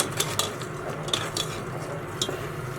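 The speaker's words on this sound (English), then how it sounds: "and you just stir it" A spoon stirs half a teaspoon of dye through a boiling dye bath, making close wet swishing with a few sharp clinks against the pot over a steady bubbling hiss.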